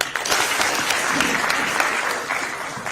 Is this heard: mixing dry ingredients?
no